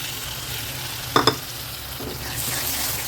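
Ground tomato, ginger and garlic paste with masala sautéing in hot oil for a pea gravy, a loud steady close sizzle broken by a couple of quick spoon scrapes against the pan.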